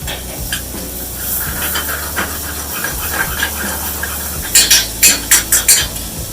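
Corn mash of blanched, puréed corn kernels goes into a pan with butter: a soft, steady sizzle and hiss runs throughout, then a burst of sharp metallic scraping and clinks from a utensil stirring against the pan.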